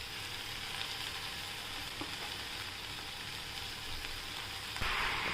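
Black-eyed pea leaf greens with onion sautéing in a pan, a steady dense sizzle and crackle of frying throughout, loud and close with no voices.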